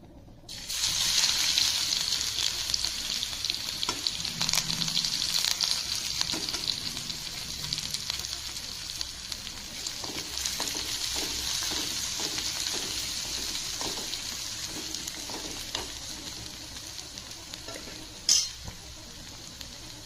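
Steady loud sizzling of spices with curry leaves in hot oil for tempering dal, with occasional stirring clinks and crackles over a continuous hiss.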